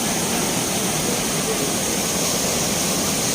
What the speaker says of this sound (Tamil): நல்லா ஸ்பீடாக தண்ணி போயிட்டுருக்கோம்.